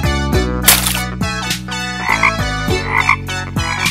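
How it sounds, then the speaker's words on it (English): A steady run of loud, close green frog croaks repeating in a bouncy rhythm over a tonal musical background, with no talking. "Green frog."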